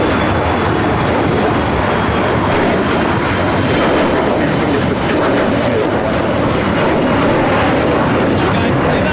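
A British Airways airliner arriving from London Heathrow goes around at LAX, and its engines roar loud and steady for several seconds while people talk over the noise.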